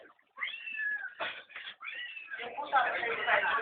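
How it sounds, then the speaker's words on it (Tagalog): A cat meows repeatedly up close, drawn-out whining cries in quick succession, ending in a louder, rougher yowl. "Yung pusa,"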